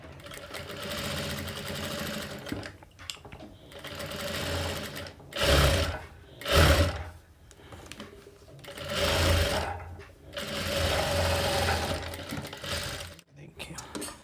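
A sewing machine runs in bursts while press-stitching a princess-cut blouse, its motor whirring in several loud, close runs separated by brief pauses, with a faint voice in the background.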